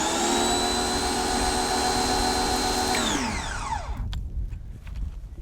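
A Ryobi 1800psi electric power washer whines steadily and close while rinsing mud off a bike, then its motor pitch sinks and winds down, leaving scattered spray and splashing; no one speaks.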